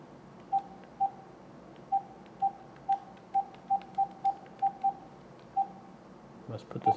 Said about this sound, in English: let's try dialing in again